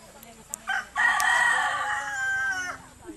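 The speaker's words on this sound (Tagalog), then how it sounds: "May manok." A rooster crows once in the Bicol countryside, a loud drawn-out call rising after a few short clucks, with quiet background sounds around it.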